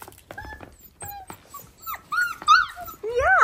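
Standard poodle puppies whimper and yip close by, a scattered run of high, thin cries and squeaks that grows louder toward the end, no talking.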